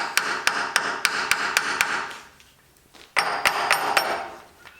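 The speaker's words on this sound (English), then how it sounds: "I'm just keeping a little bit extra pressure on the opposite side of the pulley as I tap" Hammer tapping on an automotive air conditioning compressor clutch pulley, a rapid series of sharp metallic taps, then a brief pause before another burst of quick strikes, close and clear.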